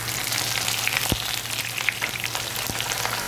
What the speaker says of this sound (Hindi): अब हम इसके अंदर ऐड करेंगे प्याज